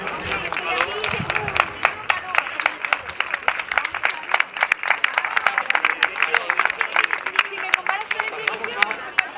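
A crowd claps steadily at a race trophy ceremony in Zaragoza, a dense patter of applause lasting throughout with some crowd murmur mixed in.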